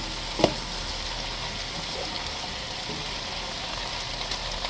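About two cloves of garlic frying in a pan for vegetable beef soup, a steady, even sizzle throughout with a single sharp tap of a utensil early on.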